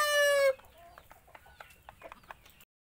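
Indio Gigante chickens, hen and rooster, with a loud close crow at the start followed by a series of softer, scattered clucks and short calls, ending in near silence.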